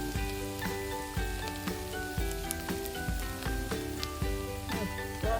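An egg omelette with zucchini cooks on very low heat, giving a gentle, steady sizzle like light rain. Regular soft knocks and a tonal music-like background sit underneath it.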